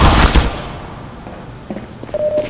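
Rapid sentry gun fire strikes a player during a bullet hop in Team Fortress 2, a dense loud burst of gunfire at the start that fades into scattered softer hits and shots.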